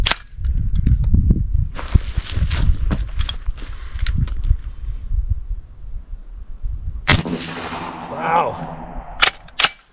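A .45 caliber pump action airgun fires several sharp, loud cracks at irregular intervals outdoors, with clanks, handling noise and a voice between the shots.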